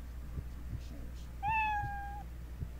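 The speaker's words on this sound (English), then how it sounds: "Cat? Want to pet it again." A cartoonish cat meows once in the Roblox game Don't Get Licked, a single clear rising-then-level call that stands out over a soft game background with light thumps.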